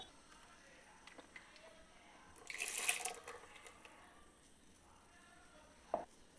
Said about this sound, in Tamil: தேவையான அளவு கொஞ்சமாக தண்ணீர் சேர்த்துக்கோங்க.